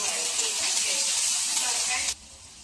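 Chopped onion and garlic hit hot soybean oil and sizzle loudly right up close, a steady hiss that stops abruptly near the end.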